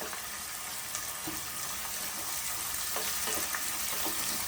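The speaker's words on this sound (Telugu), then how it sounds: "ఉల్లిగడ్డని పచ్చిమిర్చిని వేసి బ్రౌన్ కలర్ వచ్చేదాకా వేయించుకోవాలి" Onions and green chillies frying in oil in a pan while cooking a mutton curry, a steady close hiss of sizzling with faint stirring clinks and no voices.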